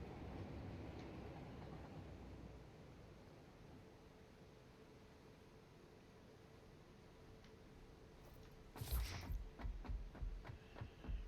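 A video game train rumbles past faintly and steadily, and clacking rhythmic bursts pick up near the end.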